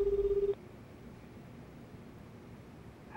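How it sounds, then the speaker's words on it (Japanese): A phone call being dialed in the video game Lost Judgment: a steady electronic dialing tone pulses briefly at the start, then gives way to a faint hiss before the line connects. "電話してみます。"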